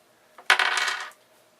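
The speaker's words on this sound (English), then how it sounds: "I hate these dice." Dice in a board game tumbling briefly across a hard surface, one short close rattle lasting about half a second amid near silence.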